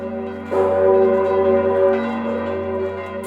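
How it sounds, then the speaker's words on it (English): A large bell rings out with a deep, sustained resonant tone, its overtones swelling and layering as more church bells across Krakow join, loud and reverberant. "Soon, every bell in Krakow is ringing."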